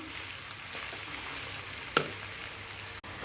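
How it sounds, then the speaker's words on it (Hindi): Chopped onions frying in oil in a kadai over medium-high flame, a steady soft sizzle throughout with one brief sharp clink partway. "प्याज डाल देंगे कढ़ाई में, फ्राई कर लेंगे इनको।"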